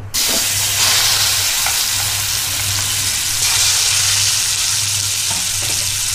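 Mushrooms frying in hot oil with a loud, steady sizzle throughout, broken by occasional spatula scrapes and stirring, with a low hum beneath.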